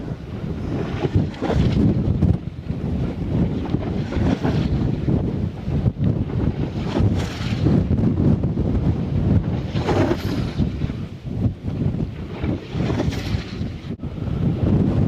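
Strong wind buffets the microphone outdoors at Lake Tekapo, New Zealand, during a sailing event, a loud, continuous roar with gusty swells and no speech.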